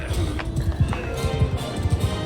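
Horse hooves clip-clop in the Mount & Blade II: Bannerlord video game, a quick, uneven galloping patter of several close hoofbeats that runs under light battle ambience.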